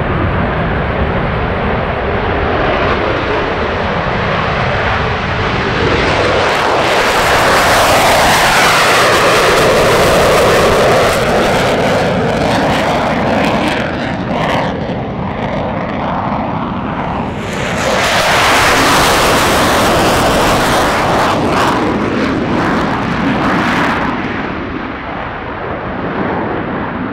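Aircraft taking off at EAA AirVenture Oshkosh during minimum-interval departures, a loud sustained engine roar with broadband rushing that swells, eases and surges again as planes pass close by, no talking.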